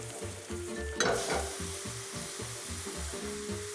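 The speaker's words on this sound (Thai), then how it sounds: "สิ่งที่เราผัดอยู่ก็จะเป็นหอมแดงแล้วก็พริกนะครับ" Shallots and chillies, then galangal and lemongrass, stir-frying in a pan with a steady close sizzle, a rhythmic scraping stir repeating under it, and one brief louder hiss partway through.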